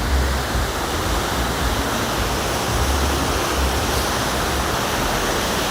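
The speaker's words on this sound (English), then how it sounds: "there's a beautiful waterfall right here" The waterfall at the Wynn Hotel in Las Vegas pours with a loud, steady broadband roar that holds unbroken and close throughout, with no voices over it.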